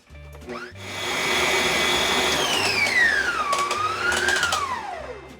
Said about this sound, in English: let's cream our butter, right? Lots of air. Here we go.